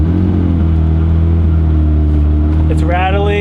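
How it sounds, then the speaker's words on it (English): A 1991 Honda CRX Si idling steadily with a low, even engine hum and slight rattle, close by, and a brief voice cutting in near the end. "This thing's idling now for 15 minutes, no overheating."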